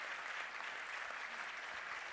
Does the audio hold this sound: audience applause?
yes